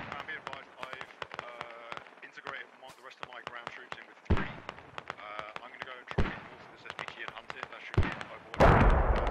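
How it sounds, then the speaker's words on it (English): Mortar fire in the tactical shooter Squad, heard as a few deep booming impacts spaced a couple of seconds apart over a busy background of radio chatter and clicks, with voices talking throughout. "Ooh, the mortars!"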